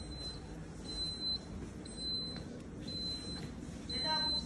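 An alarm buzzer on an electronic fire extinguishing test panel sounds a faint, high-pitched beep that pulses repeatedly at a steady rhythm over a constant background hiss.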